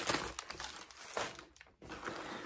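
Crinkly stuffing paper pulled out of a vintage Louis Vuitton denim bag, with close, loud rustling and crumpling in irregular bursts and a brief lull near the end, no talking.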